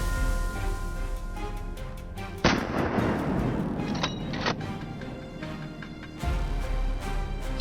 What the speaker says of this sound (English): Shots rang out, each one timed with deadly precision.